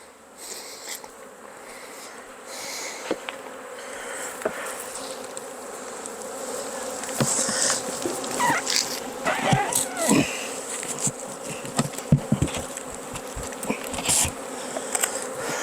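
Many honeybees hum steadily in a dense, continuous buzz around a hive, with individual bees zipping close by now and then.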